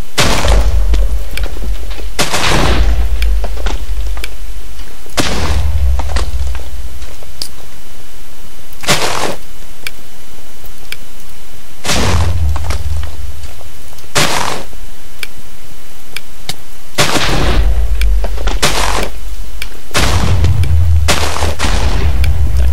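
Bombs going off in Minecraft, a series of deep booming blasts at irregular intervals with crackling debris, loud and close, with no talk over them.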